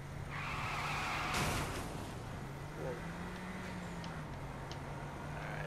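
Car tires skid and squeal through a drift in Saints Row IV, a long screeching slide with engine drone beneath, loud and close, with a voice talking over it.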